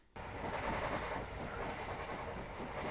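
A train runs along the railway, a sudden steady rumble of wheels and carriages that starts abruptly and continues loud and close with a constant rattling clatter.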